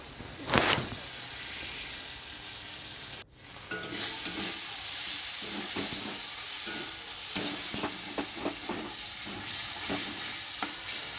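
Cumin and coriander with chilli powder and green chillies frying in a pan as they are stirred, a continuous close sizzle with repeated scraping strokes and a brief break before the frying resumes.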